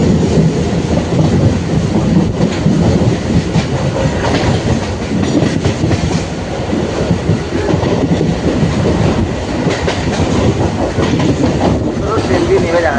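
A passenger train rolls along the tracks near Dankuni junction in West Bengal, heard from inside with a steady, loud rumble and rhythmic wheel clatter that carries on through the whole stretch.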